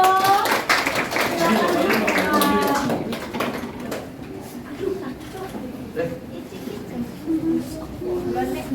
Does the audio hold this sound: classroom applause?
yes